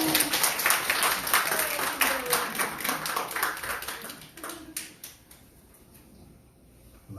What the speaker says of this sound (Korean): 박수 한번 쳐요.